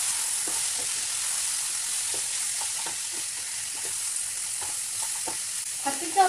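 Spiced masala stirred in a frying pan with brinjal being cooked: a soft steady sizzle with scattered light scrapes of a spoon, closing with a louder clatter, close and without speech.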